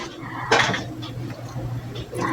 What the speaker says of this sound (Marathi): थोडंसं सुरुवातीला अगदी हलक्या हाताने हे उलटायचं, नाहीतर मग ते तुटू शकतं.